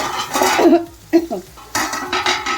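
A spoon stirs prawn curry with tomatoes in a pot, giving clinks and scrapes against the metal alongside a soft simmering sizzle, with a voice talking over parts of it.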